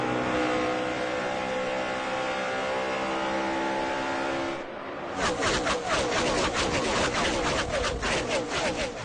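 NASCAR race cars roar at the first restart of the day of the 2010 Samsung Mobile 500. A steady engine drone gives way to a loud, rough, fluttering burst of acceleration as the field picks up speed, with no talk.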